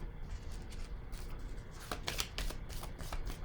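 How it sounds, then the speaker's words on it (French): Tarot cards are handled and laid down on a table, with a series of soft, papery flicks and slaps close by, a quick cluster of sharper ones in the middle. "je vais déposer une autre carte"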